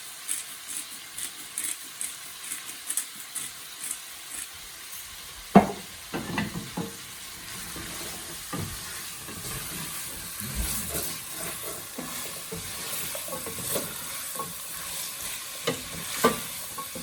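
Chicken, bacon and vegetables sizzle and fry in a pan for lentil soup, a steady close hiss with occasional stirring scrapes and clacks, no talking.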